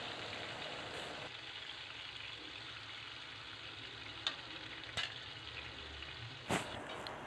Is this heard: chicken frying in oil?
yes